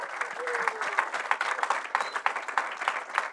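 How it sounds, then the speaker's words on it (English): Dense, lively applause fills the hall from an audience at the ETH Paris closing ceremony, rapid overlapping claps with faint voices mixed in, steady throughout. "it's really great to hear the loud claps and all your excitement today"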